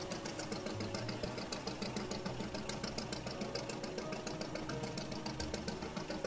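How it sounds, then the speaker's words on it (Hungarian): Boat engine running in a video game, a steady rhythmic chugging with a fast mechanical knock and a low drone, moderately close and unchanging, with no speech. "Jó, én ki akarom kapcsolni a motort,"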